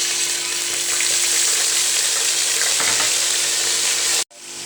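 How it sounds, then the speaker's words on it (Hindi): Steady, loud sizzling of ginger and garlic frying in hot oil for Kabuli pulao, continuous for several seconds before cutting off abruptly near the end. "अब हम इसमें अदरक लहसुन डालेंगे"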